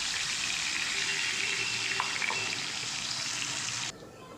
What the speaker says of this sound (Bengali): বাটা মশলার বাটিটা ধুয়ে জলটাকেও দিয়ে দিলাম